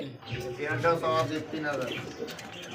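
Pigeons coo softly at a pigeon farm where eggs and chicks are sold, their murmuring calls close by and repeated, with people talking over them throughout.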